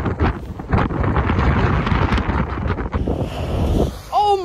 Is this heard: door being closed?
no